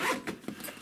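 A zip on an Ogio M9 sports bag pocket is pulled closed in a few quick, soft rasping strokes, close and quiet with no voices.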